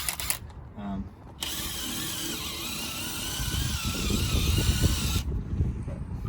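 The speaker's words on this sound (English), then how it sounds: "this is an impact wrench I'm using" A loud, sustained mechanical whirring and rattling from an impact wrench running continuously for several seconds, with a brief quieter pause near the start.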